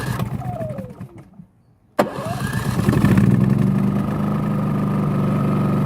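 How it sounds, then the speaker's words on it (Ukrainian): A Champion C4500iES Gen2 hybrid gas-petrol generator cranks with a sharp catch after a brief silence, then settles into a steady, loud running drone close by. "Запускаємо гібридний газ-бензин."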